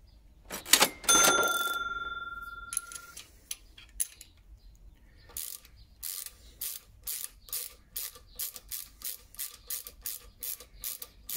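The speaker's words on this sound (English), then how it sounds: "Get my ratchet here." A ratchet wrench works on a Race Tech gold suspension emulator, starting with a few clanks and a ringing metallic tone, then settling into a steady series of crisp, close clicking strokes.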